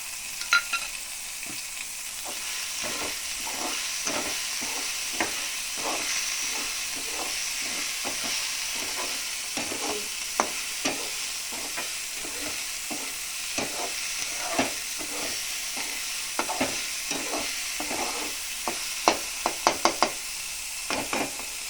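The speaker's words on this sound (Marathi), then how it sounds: "आता याच्यामध्ये थोडी आपण चिरलेली शिमला मिर्च टाकूयात" Chopped capsicum with tomato being stirred and sautéed in a hot pan, a continuous sizzle broken by frequent rhythmic scraping strokes of a spoon, close and fairly loud with no talking.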